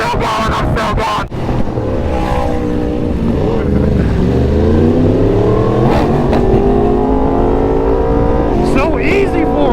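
Loud, steady engine roar from a Yamaha R1 motorcycle held up in a wheelie, pitch sweeping slowly up and down as the rider works the throttle, with wind rush throughout.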